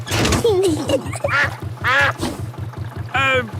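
Mrs. Duck, a cartoon duck from Peppa Pig, quacks repeatedly in short, loud bursts over the steady chugging putter of a small boat engine.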